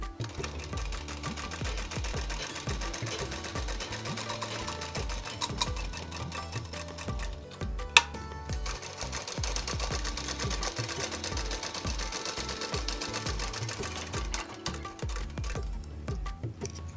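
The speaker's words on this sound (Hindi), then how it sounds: "इसे आधे इंच की सिलाई हम डबल सिलाई पे कंधे को जोड़ देंगे।" A sewing machine runs a double-stitched half-inch seam joining the shoulder of a kurti, with rapid, close, rhythmic needle clatter that continues steadily apart from a brief pause and a click midway.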